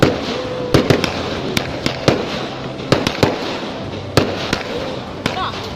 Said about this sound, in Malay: sambil menyaksikan pertunjukan bunga api